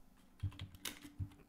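A few soft, close keystrokes on a computer keyboard, a sparse cluster of clicks and taps heard alone over a quiet background.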